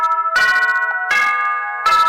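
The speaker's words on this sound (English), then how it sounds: "The phone had to chime in on that, man." A phone chime, several bright ringing tones that repeat in bursts about once a second over a sustained tonal hum, close and fairly loud, with no one speaking.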